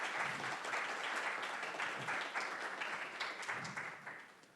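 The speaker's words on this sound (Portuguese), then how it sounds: "uma salva de palmas" An audience applauds steadily for a speaker introduced at a physics lecture. The dense, continuous clapping is fairly loud and fades slightly toward the end.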